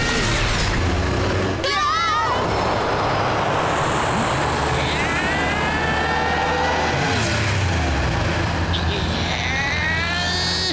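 A cartoon car with a modified engine revs and accelerates away, a loud continuous roar with rising whine sweeps as it speeds off, while animated characters speak over it.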